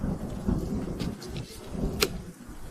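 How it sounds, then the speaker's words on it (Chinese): Thunder rumbles through a wall where lightning is hidden, rolling in low waves with a sharper crack about two thirds of the way in, loud and close. "这墙壁之中竟藏有雷霆"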